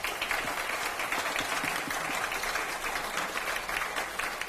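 Applause from the audience at a People Power Party joint vision rally for Daegu and North Gyeongbuk, a steady broadband clatter of many hands clapping, sustained and dense with no break.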